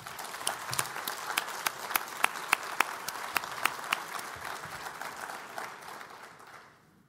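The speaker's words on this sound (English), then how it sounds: "please give them a round of applause" An audience at a symposium's closing session claps for the event staff, a moderate crowd applause with a few sharper claps standing out near the front, tapering and fading out at the end.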